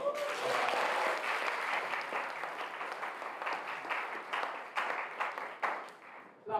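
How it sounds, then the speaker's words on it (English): An awards ceremony audience applauds steadily for several seconds, the clapping dense at first and thinning toward the end with a few sharper claps standing out. "Clap her excellently."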